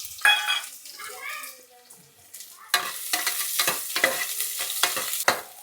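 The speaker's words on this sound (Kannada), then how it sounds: "ಈರುಳ್ಳಿ ಫ್ರೈ ಆಗಲಿ" Chopped onions hit hot oil in a pan, giving a sudden loud sizzle that goes on crackling and popping with stirring scrapes. It is close up, with a brief quieter stretch before the onions go in.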